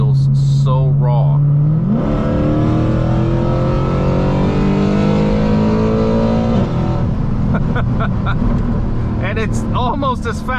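Mercedes C63 AMG engine revving hard and dropping through downshifts, a loud rising drone that climbs in pitch, holds, then falls away with a raw burbling note, with voices talking briefly at the start and end.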